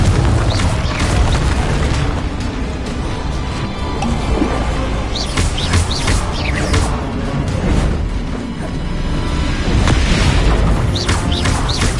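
Confringo blasting spells exploding in Hogwarts Legacy, with dense continuous booming and crashing blasts that fill the whole stretch, loud and close with no talk.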